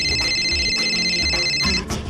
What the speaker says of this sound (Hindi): महारानी तानिया का फोन है